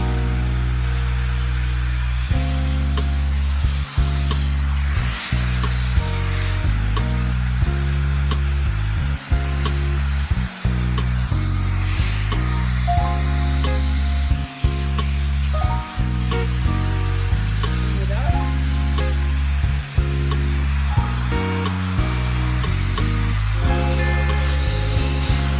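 Loud, continuous rush of an AIMIKE HyperFlow high-speed blow dryer brush drying hair, its motor drone holding steady with short dips as the brush moves through the hair.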